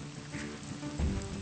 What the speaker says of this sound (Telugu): రాజమ్మా, ఏంటమ్మా ఈ వర్షంలో ఈ రాత్రిపూట ఏంటి?